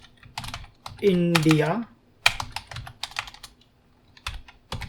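Keystrokes clatter on a computer keyboard in quick bursts of typing, with a stretch of spoken voice over the middle and scattered key taps continuing afterward.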